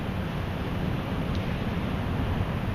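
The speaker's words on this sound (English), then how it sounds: "if I'm sitting here by the beach on a beautiful day, listening to these waves" Ocean waves wash onto a beach on a fine day after rain, a steady, continuous surf roar with no voices.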